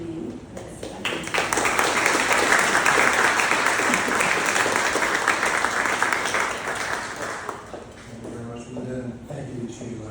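A lecture audience applauds to welcome a professor at a launch event: sustained, dense clapping, loud and near, rising after a brief start and holding steady for several seconds before tapering off toward the end.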